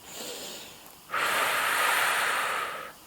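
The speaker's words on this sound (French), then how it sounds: "on inspire par le nez, on expire par la bouche" One breathing cycle during a core-strengthening plank exercise, in through the nose and then out through the mouth: a soft quiet inhale, followed by a longer, louder airy exhale lasting nearly two seconds, close to the microphone.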